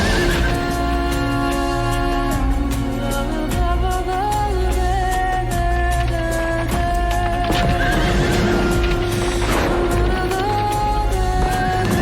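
A horse neighs and whinnies with clip-clop hooves, woven into loud continuous music from a music video, the calls rising above a dense sustained instrumental backing.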